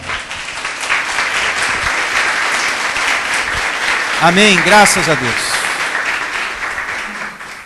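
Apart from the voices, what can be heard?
church congregation clapping in praise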